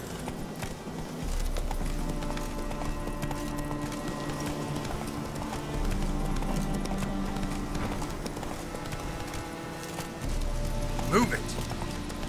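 Horse hooves in The Witcher 3 beat out a steady galloping rhythm with low thudding bursts, heard over game music and ambience.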